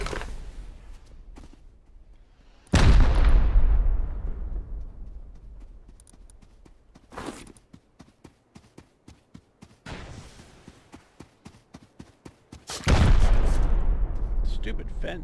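Rocket launcher explosions in the video game Rust, three heavy booms with long rumbling decays, separated by rapid bursts of gunfire, loud and close.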